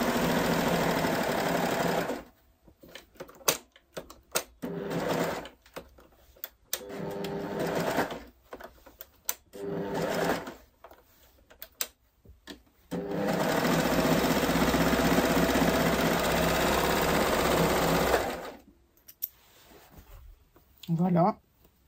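A sewing machine stitches a pair of babette-style trousers in several bursts of steady mechanical whirring, separated by pauses, with a long continuous run near the end.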